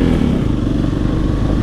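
Motorcycle on a ride toward a dam, a close, loud continuous engine drone mixed with road and wind rumble, steady throughout with no voices.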